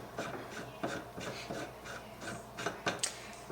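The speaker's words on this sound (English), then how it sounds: "Then I'm going to start screwing in the resizing die." A rifle resizing die is threaded into a reloading press, giving soft, quiet rhythmic rubbing and scraping of metal threads in repeated short strokes, close up and faint, with no talk.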